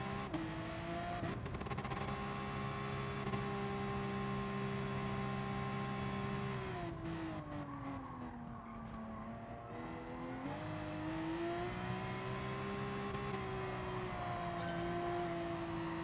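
A Porsche race car engine in GT Sport, running on low fuel during an FIA race lap. It gives a loud, continuous drone that dips and climbs in pitch through gear changes, with no talk.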